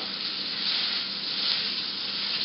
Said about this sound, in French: On va mettre notre steak à cuire.